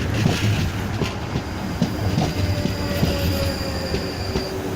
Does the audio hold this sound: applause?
no